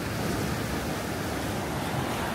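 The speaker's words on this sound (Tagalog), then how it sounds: "Grabe yung alon." Big ocean waves crash and surge against the shore in a steady, loud roar of surf, with wind buffeting the microphone throughout and no voices.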